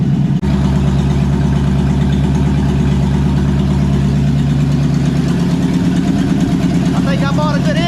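A Chevy small-block 350 V8 fitted in a 1976 Chevy LUV pickup idles loud and close with a steady, even rumble, throttle unhooked so it never revs.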